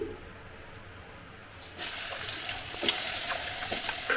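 After a quiet moment, a bright hissing sizzle bursts up and keeps crackling steadily as oil hits a hot kadai.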